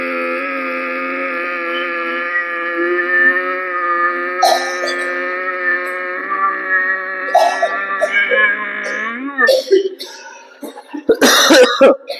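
During a live ujjayi pranayama yoga session, a long sustained tonal breathing sound gives way to several rough, close coughs and throat clearing near the end.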